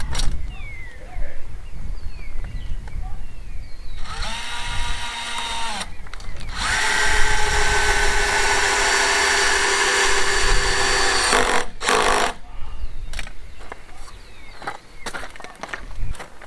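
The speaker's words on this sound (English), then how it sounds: "All we've got to do is get some screws in it." A power drill drives screws into clamped wooden boards on a corner, whining loudly in two long bursts with a short pause between, surrounded by quieter handling noise.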